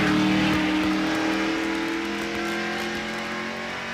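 NASCAR stock cars racing at Darlington Raceway in the 1990 Southern 500, heard from a bumper-mounted camera: a loud, sustained engine drone with steady harmonic whine, slowly easing in level over the stretch, no voices.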